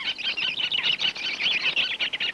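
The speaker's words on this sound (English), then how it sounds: "By now, the birds of the folly were shrieking abuse at the hated stoat" A flock of birds by a folly shrieks at a stoat in a dense, continuous clamour of high, harsh calls, loud and near, with no talk over it.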